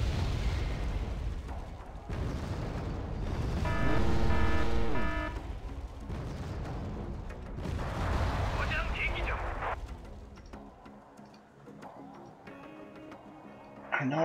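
Anti-aircraft guns firing in the video game Wargame Red Dragon, heavy booming bursts and rumbling explosions layered with game music and a voice, loud through most of the stretch before fading to quieter background tones.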